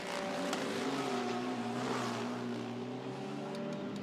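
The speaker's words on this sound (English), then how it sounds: "There's such an aggressive engine tone in this, and the vibration, it's a V8, but it's a flat plane crank." Mustang GT race car with a flat-plane-crank V8 at Monza, heard onboard as a steady, loud, harmonic engine drone holding a nearly constant pitch, with no talking over it.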